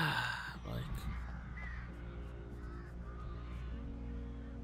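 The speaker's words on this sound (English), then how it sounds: "Oh, man, there's more crows." Crows caw in the Alan Wake Remastered video game, a few calls at moderate level over a low droning game ambience, with faint speech-like sounds early on.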